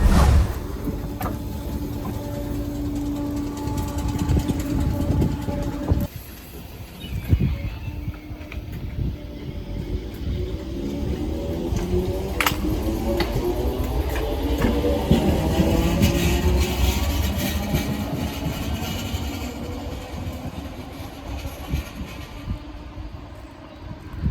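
A Merseyrail passenger train bound for Southport, near Ainsdale, rumbles steadily throughout, with a low, continuous rolling drone, wheel-on-rail noise and a brief dip partway through, heard from on board with no talk.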